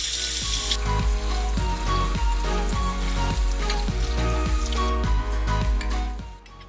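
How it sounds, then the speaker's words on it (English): Wheat berries and quinoa are rinsed under cold running water, a steady wet splashing and dripping with repeated soft pulses, close and fairly loud, without talk. "We're just going to drain and rinse off the wheat berries and quinoa."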